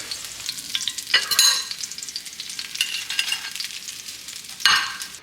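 Big fish fillets, freshly caught off jetty rocks, sizzle and crackle steadily in a large frying pan, with a few louder pops and spatters and occasional clinks of a utensil against the pan.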